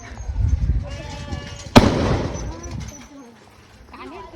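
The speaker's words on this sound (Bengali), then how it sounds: "দুই দিকেই বোম ফাটছে।" A firecracker bursts during a home Durga Puja celebration, one sharp loud bang midway that decays into a rumbling tail. People talk and chatter nearby before and after it.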